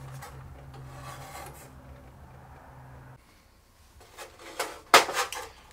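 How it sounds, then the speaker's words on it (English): Scraping, rasping strokes of a deburring tool working drilled holes in metal aircraft panel parts, starting low and steady then growing into louder, sharper bursts near the end. "I'll need to deburr all these holes"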